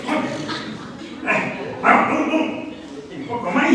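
A preacher imitates a dog with a voice, giving several short barks and whimpering yips in quick succession, loud and close, mixed with his speech.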